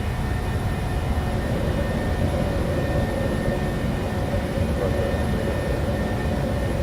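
A PMDG 737-600 jet roars steadily in a flight simulator game during its takeoff run, a continuous broad rumble with a faint high whine layered on top and no break.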